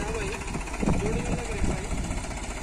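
Close, continuous diesel rumble from a turbocharged New Holland 3600-2 50 HP tractor under test, steady with a slight pulsing knock, while someone talks over it.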